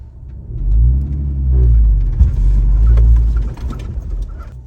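An off-road vehicle in four-wheel drive low grinds up a mountain track, a close, low engine rumble that swells and eases as it climbs, with a few knocks and rattles from the terrain.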